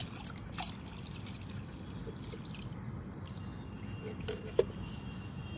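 Cow dung liquid fertilizer is poured into a container of water, making a faint, steady trickle over low background noise with one brief clink near the end.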